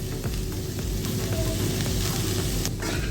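Prawns frying in a pan with curry leaves, a loud continuous sizzle with crackling pops and an occasional scrape of stirring, no talking.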